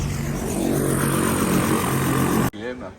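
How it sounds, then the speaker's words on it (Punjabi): A small helicopter at an outdoor Punjabi fair in Belgium makes a loud, steady engine and rotor roar close by. It cuts off sharply, and a voice follows. "ਹੈਲੀਕਾਪਟਰ ਤਿਆਰੇ"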